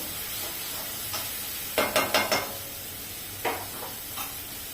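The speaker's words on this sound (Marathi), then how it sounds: "कांदा परतावा म्हणून थोडंसं मीठ टाकते मी अगदी थोडं टाकायचं छान परतवून घ्यायचं आणि मोठ्या आचेवरच परतवायचा आपल्याला" Onion sautéing on high flame in a pan gives a soft, steady sizzle, broken by a few sharp bursts of hissing and scraping as it is stirred, with no talking.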